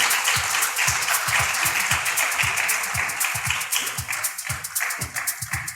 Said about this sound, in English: Please keep clapping for him as he comes up.